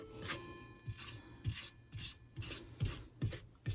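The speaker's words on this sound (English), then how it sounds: "I'm going to scrape down the sides" A spatula scrapes down the sides of a mixing bowl of gingerbread dough in a series of short, rhythmic rasping strokes, close and fairly quiet.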